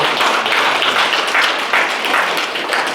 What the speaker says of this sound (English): Please give them one more applause for their time and commitment.